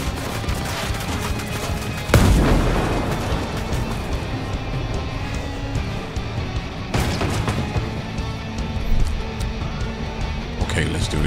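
Grenades explode in the Ghost Recon video game, with two sharp, loud bangs a few seconds apart followed by rumbling debris and gunfire, while someone talks throughout.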